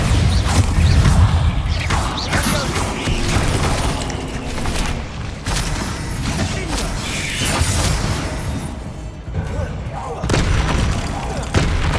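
Repeated spell blasts from Confringo and Bombarda in the video game Hogwarts Legacy, a dense run of booming explosions and crashing impacts over a constant low rumble, loud and continuous throughout.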